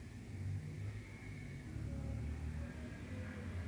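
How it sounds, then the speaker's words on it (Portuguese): A loudspeaker car rolling along a street, its engine rumbling close by under a faint, distant amplified sound, steady for a few seconds. "Está vindo um carro de som."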